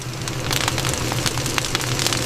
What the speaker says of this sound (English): First crack tells me the beans are ready to develop.